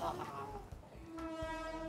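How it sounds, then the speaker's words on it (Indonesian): A train horn sounds with steady tonal blasts, somewhat distant, over rumbling and a few thumps. "ah itu keretanya. Ah, kereta bunyi."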